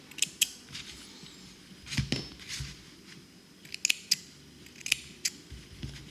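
Excess coil wire on a Bullet RDA vape atomizer build is snipped away, giving several sharp, quiet cutting clicks up close, spaced irregularly over a faint background.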